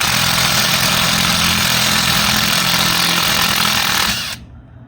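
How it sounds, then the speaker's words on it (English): A power tool with a 13mm socket runs steadily and loudly, removing rear differential cover bolts on a Chevrolet Silverado, then cuts off abruptly near the end, with no talk. "we're gonna go ahead and use 13mm and remove these bolts just like so"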